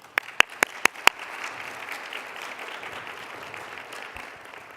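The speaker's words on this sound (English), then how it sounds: "a round of applause." Applause at a scholarship reception, opening with five loud, separate claps close by, then a softer, steady wash of audience clapping that continues evenly to the end.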